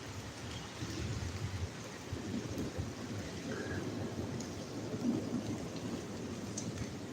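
Steady rain falls beneath a bridge on a wet morning, a continuous dense wash with low rumbling wind, constant and moderately loud, with no voices.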